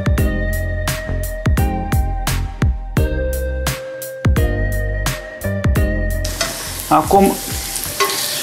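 Chicken with bay leaves sautés in a pan for ostropel, with a steady run of close scraping stir strokes over a low sizzle that swells into brighter frying toward the end. A single word is spoken briefly.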